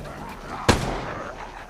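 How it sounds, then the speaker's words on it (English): A single sharp gunshot-like burst from an automatic turret in the Resident Evil Resistance video game, one loud crack followed by a short decaying tail over a low game background. "look at that auto turret is doing work"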